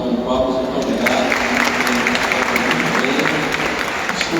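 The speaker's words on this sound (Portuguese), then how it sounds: "salve de palmas para o Padre Lucas" A congregation in a cathedral applauds Padre Lucas during a novena of the Immaculate Conception, loud, dense clapping with a reverberant crowd wash that runs steadily throughout, with a voice heard faintly under it at the start.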